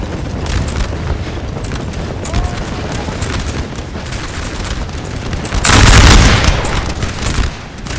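Sustained musket volleys and cannon fire from a Napoleon Total War battle, a dense steady crackle of gunfire with a louder booming swell near the middle, a little speech faintly underneath.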